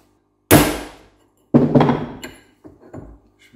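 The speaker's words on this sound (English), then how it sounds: "as we're just tapping it in with our hammer" Three or four hammer blows tap a bush into a truck king pin assembly with sharp thunks, each ringing briefly before fading, spaced about a second apart.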